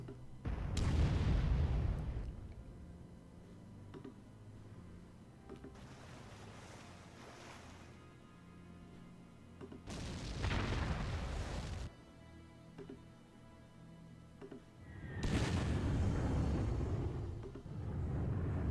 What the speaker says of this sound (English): Let's bomb the hell out of them.